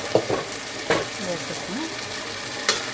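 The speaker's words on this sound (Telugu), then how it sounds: "ఇప్పుడు కడిగి ఉంచుకున్నాం కదా మనం బాస్మతి రైస్ వేసేస్తాం" Washed basmati rice poured into a pot for home-made chicken biryani, a close sizzling, bubbling wash broken by a few sharp clinks and scrapes, with no voices.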